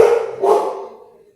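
A single dog bark, close and loud, trailing off into a short whine-like fade.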